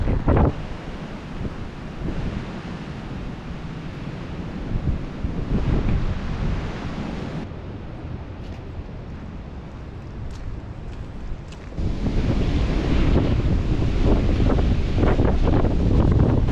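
Strong winter wind buffeting the microphone in heavy continuous gusts at a cottage in Cumbria, roaring louder toward the end, no voices heard.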